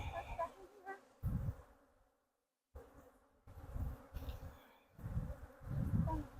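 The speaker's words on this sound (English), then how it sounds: "I can't hear you over all of the bees that are swarming." Honeybees swarm in a bee yard, a steady insect buzz around the listener with louder close passes, briefly dropping out, while people talk nearby.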